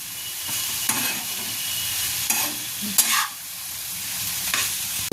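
Vetki fish fillets are gently stirred in a pan over low heat, a soft continuous sizzle broken by four spaced spoon scrapes against the pan, close and clear with no talking.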